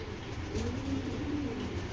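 A racing pigeon coos softly, a low gentle burbling call heard close but faint, alone and without talk.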